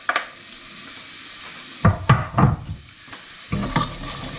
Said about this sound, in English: So now the onion's sweating off nicely, we're going to add the garlic. And also the celery.